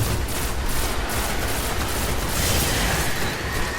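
Rapid, dense gunfire from the video game Destiny fills the whole stretch at a steady loud level, shots blurring into a continuous volley with no clear gaps.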